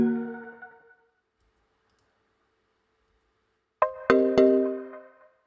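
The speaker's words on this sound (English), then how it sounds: "so this is notification when you receive a SMS" A short electronic chime of a few bright tonal pings rings out after a brief tonal lead-in and a pause of silence, clear and close.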